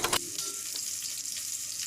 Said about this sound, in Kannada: ಜೀರಿಗೆ ಹಾಕ್ಕೊಳ್ಳಿ, ಇಲ್ಲ ಸಾಸಿವೆ ಕಾಳು ಸ್ವಲ್ಪ ಫ್ರೈ ಮಾಡಿ